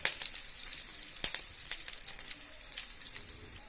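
Curry leaves drop into hot oil for spicy chicken chukka and set off a sharp burst of spitting sizzle, which settles into a fainter crackling hiss with a few small pops.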